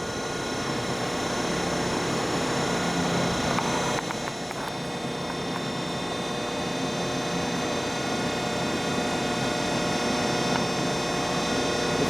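Hydraulic press brake on an ESA 625 control, its ram raised by pedal: a steady loud mechanical hum and whine with a brief shift in tone near the middle, running on alone without speech.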